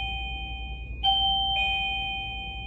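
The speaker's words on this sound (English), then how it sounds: "you always be listening for that doorbell" A doorbell rings with a clear two-tone ding-dong chime, the second tone following about half a second after the first and ringing out over a faint low background hum.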